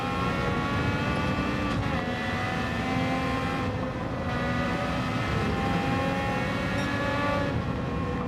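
The Honda RA272 race car engine in Gran Turismo 7 gives a continuous loud, high-revving whine whose pitch climbs and drops through gear changes, steady throughout and without talk.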